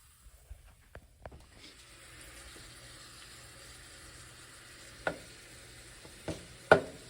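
Spam, quinoa and frozen broccoli cooking together in a pan: a low, steady sizzle with scattered knocks and several louder utensil clatters near the end.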